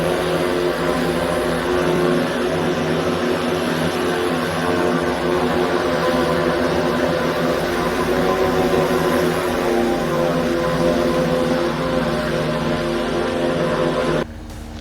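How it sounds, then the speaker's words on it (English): A Walmart delivery drone flies around a residential neighborhood, its steady propeller whine and buzzing hum holding continuously and fairly close before cutting off sharply near the end. "it's basically the drone flying around the neighborhood"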